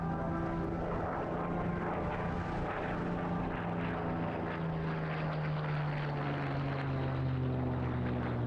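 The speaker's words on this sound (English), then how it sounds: "Set to our own Spitfire prelude, we'll just sit back for a few moments and relish this wonderful sight in the sky." A Supermarine Spitfire propeller fighter flies over an airshow crowd, its engine a loud, steady droning roar with a slowly shifting pitch, continuous and unbroken, with no talking.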